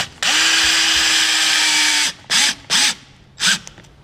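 A power drill driving big screws into a pedal boat assembly: one long high whine of about two seconds, then three short bursts as each screw is seated, loud and close.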